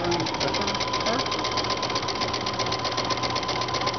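A sewing machine stitches steadily with a 1/4 inch foot in a sewing center, its fast even motor whir and needle chatter running close and loud without a break.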